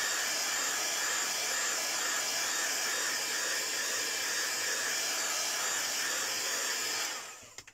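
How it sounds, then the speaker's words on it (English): A heat gun blows hot air over freshly stamped ink in a steady, loud, close whoosh for about seven seconds, then cuts off and fades, with a couple of small knocks at the end. "I'm just going to give that a quick waff with a heat gun, because I don't want to smudge it"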